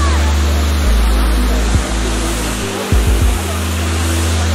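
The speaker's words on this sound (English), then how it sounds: "This is the waterfalls here in Waimea Falls." Waimea Falls, a jungle waterfall in Waimea Valley on Oahu, Hawaii, gives a steady, loud broadband roar of falling water with a deep low rumble, while a few brief thumps break through the flow.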